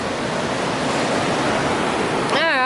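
A big river on the Pacific Crest Trail rushes far below in a steady, dense roar that fills the whole scene, with a brief whistle-like sound near the end.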